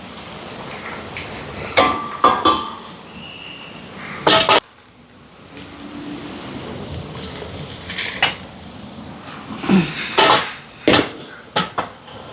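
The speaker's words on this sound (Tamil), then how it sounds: "இப்போ குழம்பு இறக்க போகிறேன்னு பாருங்க" A metal pot of chicken curry is handled on the stove, with scattered clanks and clinks of pot, lid and utensils, several sharp knocks in short bursts between quieter moments.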